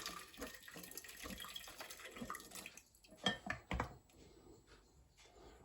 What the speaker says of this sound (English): I'll put boiling water in here to help it along.